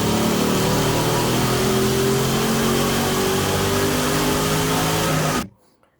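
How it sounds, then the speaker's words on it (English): LS-swapped Ford Crown Vic with a Corvette V8 and six-speed T56 revving hard, a loud, steady, dense engine roar held for over five seconds before cutting off abruptly into near silence. "It's a Corvette swapped Crown Vic."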